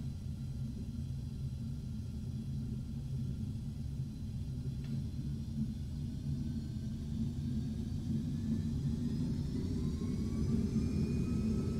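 Carenado Premier 1 jet in FSX during its takeoff run, a steady low engine rumble with a smooth whir that holds evenly throughout and swells slightly toward the end, with no talk over it.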